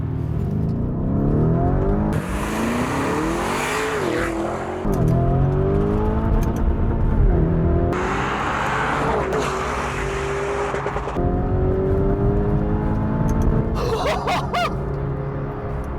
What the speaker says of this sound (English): The colossal straight-line performance comes courtesy of a twin-turbocharged 4-litre V8 engine